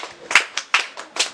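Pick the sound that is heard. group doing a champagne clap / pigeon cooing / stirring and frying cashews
group doing a champagne clap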